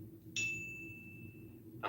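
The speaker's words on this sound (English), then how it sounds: "That's my little bike bell I put on my mountain bike sometimes" A small bell on a mountain bike rings once with a bright, clear ding that hangs and slowly fades for over a second, then starts to ring again, close and alone over low background hum.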